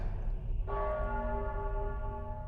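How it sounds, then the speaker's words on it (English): Church bells ring out over a low rumbling background, a strong sustained tolling with layered ringing tones that swells after a brief lull and holds steadily. "The bells."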